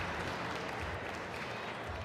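Spectators at a professional squash tournament applaud after a long rally, a steady wash of clapping heard from a distance, moderately quiet throughout.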